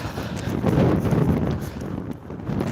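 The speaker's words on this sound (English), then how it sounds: "It's quite windy here" Wind buffets a microphone on a seaside pier at Southport, a steady low rumbling roar that swells and eases without a break.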